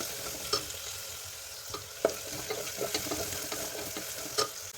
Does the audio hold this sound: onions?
yes